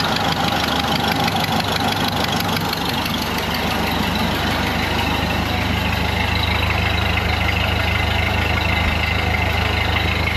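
A freshly rebuilt 1931 Ford Model A engine idles steadily with a low, even rumble and faint ticking, loud and close, running without pause throughout.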